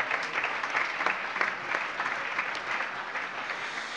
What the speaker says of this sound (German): Alles Gute nachträglich und für Sie mindestens ein so herzlicher Applaus.